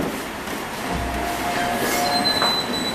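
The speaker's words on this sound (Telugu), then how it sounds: "రైలు." A train rolling past on the rails, a steady rumble under thin wheel squeals that rise and fade over a few seconds, with no voices.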